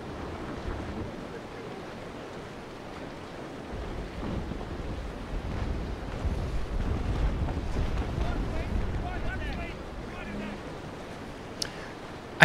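In a video game, ocean waves wash and rumble steadily with gusty wind, a ship creaking over the water in a broad, continuous roar with a brief sharp tick near the end.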